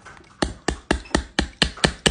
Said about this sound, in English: You hit it with the hammer.